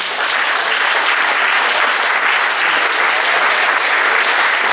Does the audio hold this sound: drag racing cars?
no